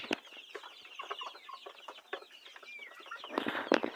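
Tiger-breed chickens, including a one-month-old chick, cluck repeatedly nearby in short, busy bursts, with sharper squawks growing louder toward the end.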